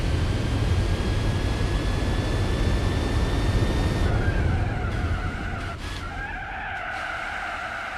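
A race car in Gran Turismo 4 roars at high revs, then brakes and skids with a strained tire squeal that swells over the loud engine before the pitch shifts and the noise settles into a lower drone.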